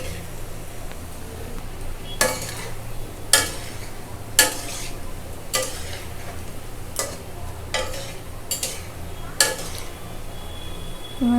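Palm fritters (taler bora) fry in oil with a soft, steady sizzle, broken every second or so by sharp scraping clicks from a utensil stirring against the pan, close and clear.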